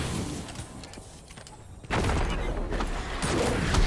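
A rocket fired in Destiny 2 after a champion's barrier is broken, in the Quarry lost sector: quieter combat rattle, then a sudden loud blast that settles into a sustained heavy rumble.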